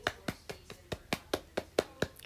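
A short, slightly uneven round of hand clapping, about ten crisp claps spaced roughly a quarter second apart, close and fairly quiet, with no voices.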